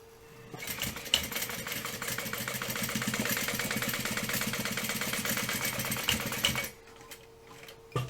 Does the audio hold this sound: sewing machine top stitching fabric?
yes